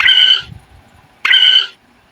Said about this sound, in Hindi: अरे देखो तो कितना बड़ा तोता है और ये तो कितनी तेज तेज चिल्ला रहा है।